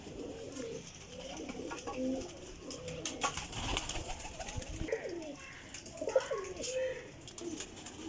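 Teddy pigeons coo softly and intermittently in a loft, with scattered faint calls and shuffling noises over a low, continuous background.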